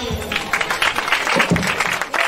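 A crowd at a religious gathering gives a short burst of clapping, a brief rapid patter of many hands heard close.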